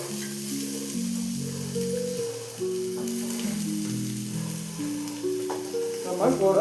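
Shredded cabbage sautéing in a hot pan for cabbage poriyal, giving a steady soft sizzle beneath louder melodic background music throughout, with a few sharper stirring clatters near the end.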